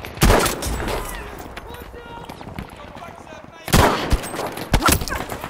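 Battlefield V gunfire on a large map crackles in sharp bursts, a loud volley at the start and another cluster near the end, with excited talking and game sounds between.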